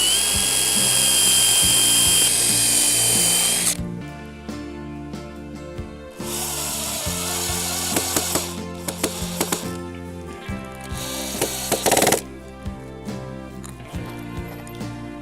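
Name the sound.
power drill on wooden raised garden bed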